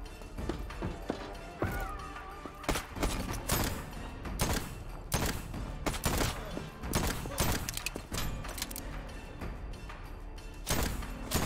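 Scattered gunfire from the train-based survival game Voidtrain, sharp shots and crashes going off irregularly amid a busy mechanical clatter, with a brief whistling tone partway through.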